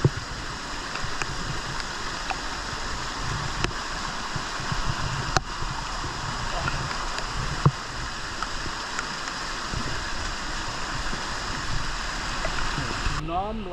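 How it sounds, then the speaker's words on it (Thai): Steady, loud rush of a fast-flowing stream on a forest hike at Khao Chet Yot, Phatthalung, fills the whole stretch, a constant broadband roar with faint voices now and then beneath it. "น้ำไหลแรง น้ำไหลแรง"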